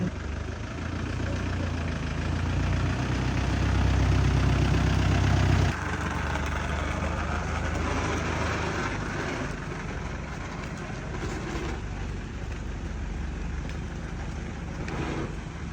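A Hyundai Galloper sits running while being parked, its engine a steady, loud low rumble that drops and smooths out partway through as the idle settles, with no talking over it.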